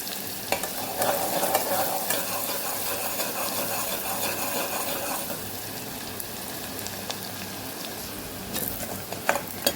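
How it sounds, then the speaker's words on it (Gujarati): Chopped onions sauté in a pan for a Kathiyawadi chana dal dish, with a steady close-up sizzle and frying crackle and occasional scrapes and clinks as they are stirred, with no talking. "લાઇટ ગુલાબી કલર થાય એટલે કે લાઇટ પિંક જેવી થાય એટલે ત્યાં સુધી આપણે સાતડવાની છે ડુંગળીને"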